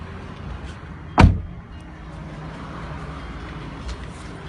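A door shuts with a single sharp thud partway through, set against a low background hum, with no other distinct sounds around it.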